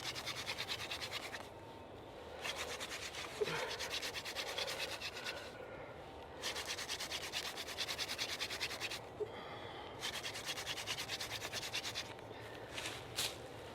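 A wooden spindle is spun between the hands on a hearth board for a hand drill fire, making a steady, close rasping rub in long strokes broken by short pauses, with no talking.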